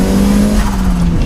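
A turbocharged first-generation Mazda MX-5 pulls hard in second gear, its engine note loud and close with a steady rising drone and a whistly edge, with no talk over it.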